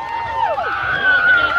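An outdoor crowd cheers and whoops with rising and falling shouts at a polar bear swim, a steady noisy roar lasting throughout.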